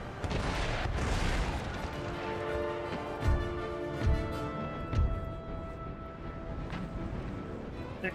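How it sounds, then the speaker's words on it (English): A ship explodes during a naval battle in Empire: Total War, with a few dull booms and cannon-like thumps over a steady rumbling battle backdrop, moderately quiet and distant. "Explosion."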